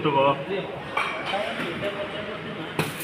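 Plates and spoons clink in scattered, sharp taps inside a busy Kumbh Mela food hall at Prayagraj, heard under steady crowd chatter and voices, with a brighter clatter near the end.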